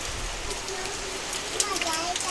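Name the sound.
rain falling with strong wind during a storm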